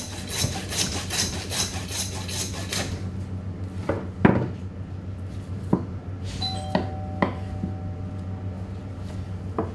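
A butcher cuts a shoulder shank off a lamb with steady rubbing and scraping strokes on a wooden board, then scattered sharp knocks and a brief metallic ring as the cutting continues.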